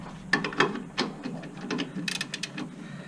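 A ratchet wrench clicks in short, uneven bursts while working on the brakes of a Nissan Frontier, close and fairly loud, with a few quick runs of pawl ticks.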